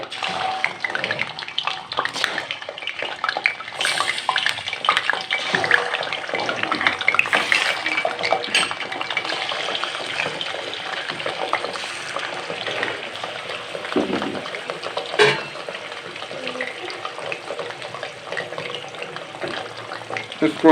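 One kilogram of chicken sizzles and crackles in hot ghee in a karahi, giving a steady, dense frying hiss that lasts throughout, close and loud, with occasional stirring clatter.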